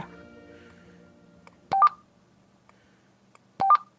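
Two short electronic roger beep tones from a Helida CP UV2000 A two-way radio sound a couple of seconds apart, each a quick two-pitch chirp against near silence.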